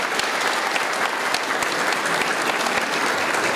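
A crowd claps loudly and steadily at a village hall handover, a close, dense applause that holds from start to end.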